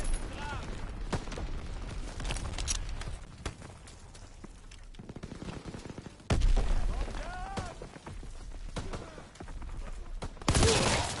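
Grenade blasts and bursts of rifle fire ring out in a Call of Duty WWII battle, sharp booms and crackling shots breaking through at intervals, with shouted in-game voice callouts mixed in.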